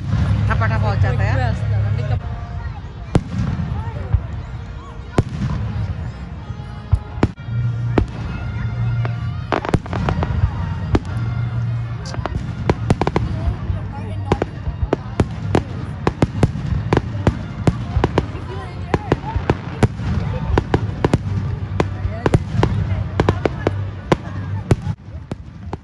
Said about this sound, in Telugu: ఈ టపాకాయలండి ఫస్ట్లో కొంచెం లైట్గా కాలుస్తారు, తర్వాత పటాపటపా ఫాస్ట్గా ఎక్కువ వేసేస్తారనమాట.